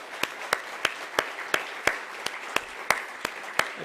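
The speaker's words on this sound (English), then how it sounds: "if we could just do one more round of applause for them" Sparse, evenly spaced claps at a law and policy conference ring out as a small round of applause for students, about a dozen distinct hand claps in a steady rhythm, fairly faint in a quiet room.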